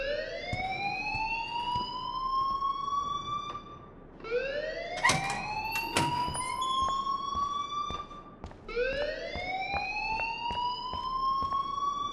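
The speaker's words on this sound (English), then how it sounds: "please turn off that alarm since that's your" A rising electronic alarm tone in the video game Life is Strange repeats three times, each sweep climbing and then cutting off, loud and steady with faint background clatter between cycles.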